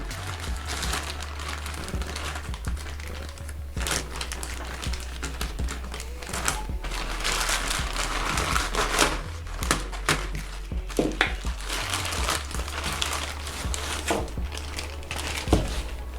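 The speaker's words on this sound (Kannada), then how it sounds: "ಇದನ್ನು ಮೊದಲು ಅನ್ಪ್ಯಾಕಿಂಗ್ ಮಾಡಿಬಿಟ್ಟು ನಂತರ ಅನ್ಬಾಕ್ಸಿಂಗ್ ಮಾಡೋಣ" Plastic wrapping on a POCO X2 phone delivery package crinkles and crumples steadily as it is unpacked up close, with occasional thunks and taps from handling the box and no talking.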